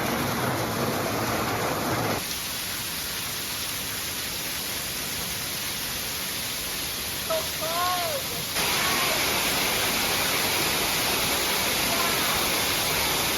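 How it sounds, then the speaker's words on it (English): A waterfall in a Bali rainforest jungle roars as a constant broadband rush, loud and close, with brief bird chirps cutting through midway. "So right behind me is the waterfall."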